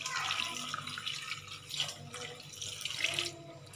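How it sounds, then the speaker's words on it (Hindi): Water pours steadily into a pressure cooker holding broken ears of corn set to boil, a continuous running splash with slight surges, close by and moderately loud, with no talking. "चारों भुट्टों को इसी तरह तोड़कर कुकर में डाल देंगे और इसमें पानी डाल देंगे उबालने के लिए।"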